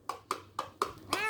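A small rescued kitten meows five times in an even rhythm, each cry short and close, the last one longer and rising, with a hoarse, dry throat from hours of crying.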